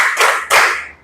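Two sharp hand claps about a third of a second apart mark the beat of a children's faith chant, loud and close, each ringing briefly before fading.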